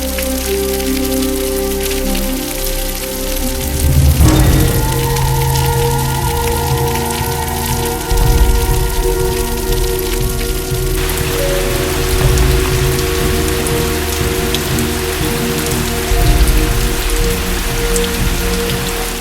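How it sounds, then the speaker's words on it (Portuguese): Heavy, steady rain pours down during a night-long storm in Brazil's sertão, a dense continuous hiss of drops drumming on surfaces with a few louder surges, filling the whole scene without voices. "foi a noite toda chovendo e foram 3 dias seguidos de chuvas intensas"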